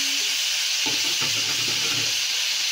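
Sweet potato leaves sautéing in a hot pan make a steady close sizzle and hiss, with a few soft stirring scrapes partway through and no talking.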